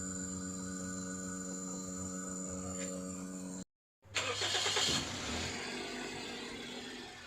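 A 2006 Toyota Corolla engine idles during a transmission fluid flush at night, a steady mid-pitched hum that cuts out briefly, then resumes with a louder burst of mechanical clatter before settling back to a running drone.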